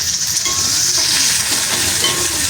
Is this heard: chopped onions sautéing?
yes